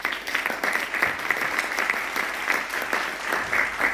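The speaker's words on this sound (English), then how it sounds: "Give him a round of applause," An audience at a lecture workshop in Amsterdam claps steadily for about four seconds, a dense, even roar of many hands without pause.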